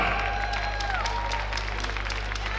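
Sustained applause from the audience at a ballroom dancing youth Latin final at the Minsk Open Championship, a steady wash of clapping filling the hall over a constant low hum, with crowd murmur mixed in.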